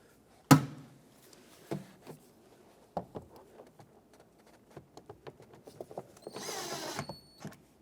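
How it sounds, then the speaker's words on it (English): Screws driven into the plastic door panel of a 2009-2014 Ford F-150 give a string of small clicks, creaks and taps, with a short whirring burst near the end. "Now let's put the bottom 2 screws in."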